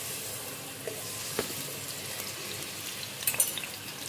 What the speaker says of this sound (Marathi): केळी छान फुगेपर्यंत भाजून घ्यायची आहेत तुपामध्ये